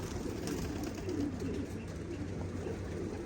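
Racing pigeons coo in a dense, steady low murmur from a loft, close and continuous, over a faint rustling background.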